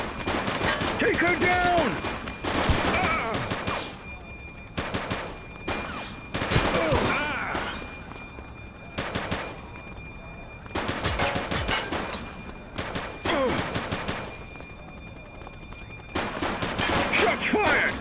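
Gunfire bursts in a police shootout in The Precinct video game, repeated loud shots and volleys over about eighteen seconds, with shouted voices in between.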